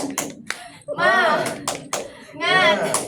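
Children's sharp hand claps in a quick rhythmic pattern alternate with a teacher-led classroom chant, tepuk semangat, with bursts of young voices shouting between the claps, close and lively.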